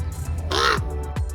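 A raven calls once on a sunny winter morning at the Grand Canyon, a loud, harsh, croaking caw standing out clearly over quiet outdoor background noise.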